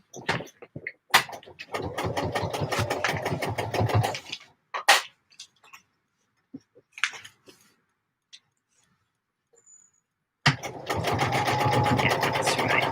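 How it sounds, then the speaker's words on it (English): A sewing machine stitches velvet panels together in two long runs of rapid, close mechanical chattering, split by a stretch of quiet handling clicks and taps; near and clear, no talk. "I'm not enjoying sewing this velvet together"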